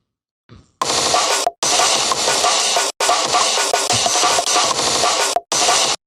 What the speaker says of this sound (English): this is a glitchy, messy sequence using these samples